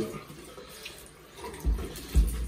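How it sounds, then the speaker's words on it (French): Running water splashes over a shoe during rinsing, a soft continuous flow that swells louder near the end with low splashing bursts, heard close up without any talking. "Alors, on y va pour le rinçage."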